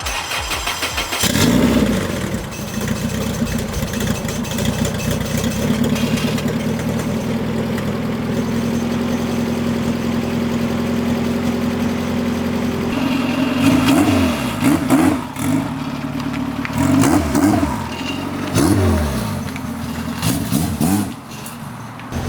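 A 1996 Honda Civic EK hatchback with a turbocharged B18C engine cranks and starts, then settles into a steady idle with a few blips of revving later on, close and loud.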